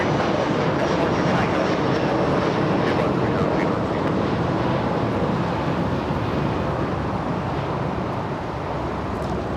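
An airliner starting its takeoff run on runway 25 right at LAX, a broad, steady jet rumble mixed with wind buffeting on the microphone, fairly distant and constant throughout.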